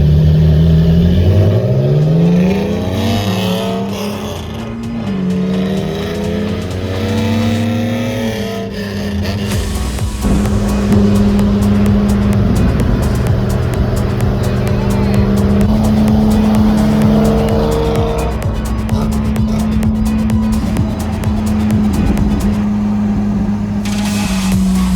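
A Hakosuka Nissan Skyline and a Ferrari F430 rev their racing engines up close, loud and continuous, with repeated climbs in pitch through the gears and then a sustained high drone.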